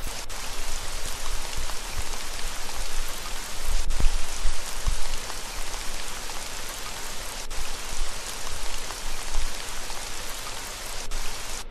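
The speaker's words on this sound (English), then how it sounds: "It's raining." Steady rain in a Dora the Explorer children's PC game falls, a dense, even hiss of drops pattering on surfaces, loud and continuous with occasional sharper splashes.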